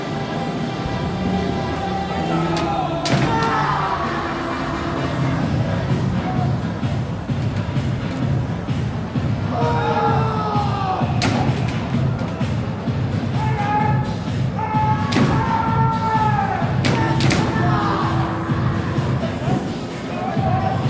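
Kendo keiko sparring in a demonstration: sharp bamboo sword cracks land in scattered bursts amid shouted kiai and shuffling footwork, with crowd murmur in the background.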